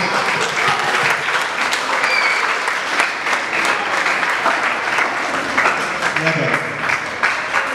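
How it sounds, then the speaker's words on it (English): A seminar audience at a school gives loud, sustained applause that fills the room from start to finish with dense clapping, and a voice speaks faintly underneath. "Put your hands together for her."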